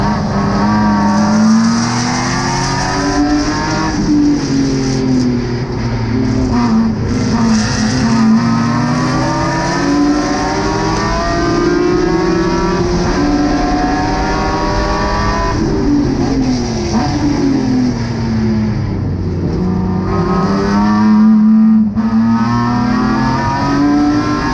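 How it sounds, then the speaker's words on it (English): GridLife GT race cars at Gingerman Raceway running side by side into a corner, engines loud and close, pitches rising and falling through gear changes and revs for the whole stretch, no voices. "we're underway at Gingerman Raceway, side by side, down towards turn 1, 3 abreast"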